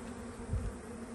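Honeybees buzz steadily at an open new hive during fitting of a frame feeder, a close, continuous drone with a brief louder swell near the middle.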